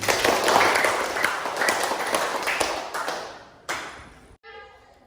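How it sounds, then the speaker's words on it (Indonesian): A classroom of children claps together, a quick burst of scattered hand claps up close that thins out and fades after about four seconds, followed by a brief ringing tone. "Tepuk tangan untuk kita semuanya."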